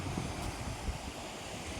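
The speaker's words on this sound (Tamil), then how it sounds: "கடலே கிளம்பி வருது பாருங்க" Sea waves surge onto an eroded, flood-damaged beach near Thoothukudi, a continuous roaring rush of surf mixed with heavy wind buffeting close by.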